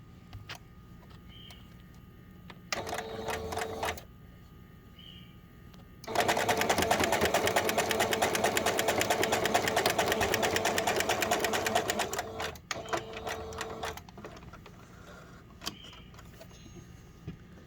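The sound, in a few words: sewing machine stitching fabric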